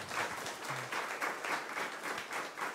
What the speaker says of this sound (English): So please give a warm applause to Christian Bolz.